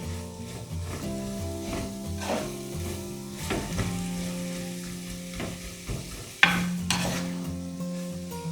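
Winged beans stir-fry in hot oil in a pan, a continuous sizzle broken by several scraping stirs of the spatula and one sharper clatter, heard close with no talking.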